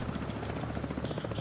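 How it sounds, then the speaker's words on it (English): Helicopter arriving in the video game The Division 2, a steady loud rotor thrum with pulsing blade chop and engine whine throughout, no voices over it. "they're coming in by helicopter"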